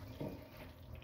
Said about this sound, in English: now what I'm gonna do is wash off this water